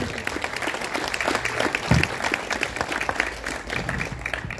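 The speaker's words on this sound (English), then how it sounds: "I would like to personally give everyone here a round of applause from me" An audience applauds at the Centennial Place ribbon cutting ceremony, with steady, dense clapping from many hands across the whole span and a brief louder swell near the middle.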